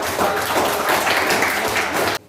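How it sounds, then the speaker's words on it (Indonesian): A classroom of students applauds at the close of an economics lesson, a dense burst of clapping that holds steady for about two seconds and then cuts off abruptly. "berikan tepuk tangan"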